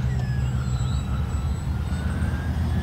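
Electric RC model Twin Otter plane, an X-Fly 1800 mm twin, whining steadily at takeoff with rising motor tones over constant low wind rumble, loud and continuous with no talk.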